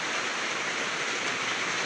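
A heavy, sudden downpour of rain that brings flooding, a dense, continuous hiss pouring down steadily and close, with no voices.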